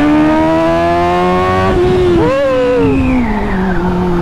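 An inline-four motorcycle fitted with an Austin Racing titanium exhaust accelerates hard, loud and close. The engine note rises through the revs, dips at a gear change, then climbs again.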